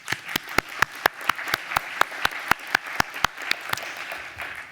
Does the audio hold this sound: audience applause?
yes